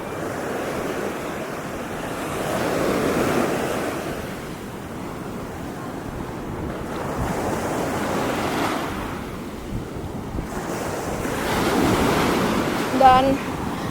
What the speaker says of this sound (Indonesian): Dan ombaknya ya seperti ombak-ombak di pantai lain di kawasan Bali Selatan itu lumayan besar ombaknya